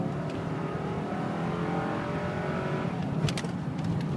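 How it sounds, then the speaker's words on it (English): The engine of a truck with a 5.7 engine runs steadily and close by, a constant low rumble that holds without a break and shifts slightly near the end, with no talking. "Okay, this thing runs great."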